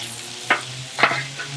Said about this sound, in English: So we're gonna get these vegetables sauteed up